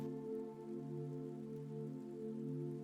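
Rain falls in a soft, steady patter with a faint hum running beneath, quiet and even throughout with no speech.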